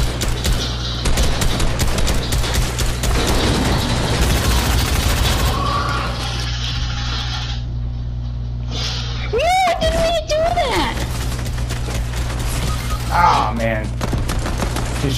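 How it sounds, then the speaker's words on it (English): Rapid bursts of automatic gunfire from the Fortnite video game rattle almost continuously, loud and close, with a player's voice talking over the shooting. "He's shooting at me."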